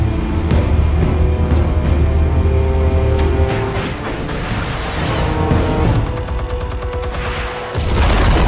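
Explosives go off in a Batman animated action scene, a loud, dense burst of blasts and crashing debris rolling on for several seconds, with sharp cracks and a rumbling low end throughout.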